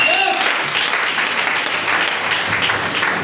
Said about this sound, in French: Donne des bonnes acclamations.